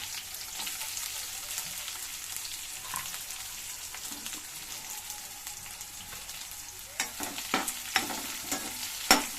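Curry leaves, garlic and onion fry in hot oil with a steady crackling sizzle, joined near the end by sharper stirring clatters and pops; no one talks.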